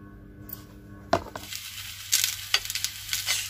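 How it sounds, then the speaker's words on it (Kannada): Okra frying in a little oil in a pan, sizzling close up, with sharp scraping and clinking stirs of a utensil against the pan breaking through in bursts. "ಈ ಕಡೆ ಬೆಂಡೆಕಾಯಿ ಹುರ್ಕೊಳ್ತಾ ಇದ್ದೀನಿ"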